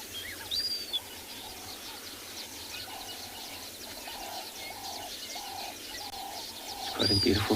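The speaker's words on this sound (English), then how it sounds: "All birds singing about, getting excited since the sun is coming up." Birds call around a South African watering hole at sunrise, with a dove's repeated cooing pattern and scattered chirps and whistles, moderately near over a quiet outdoor background.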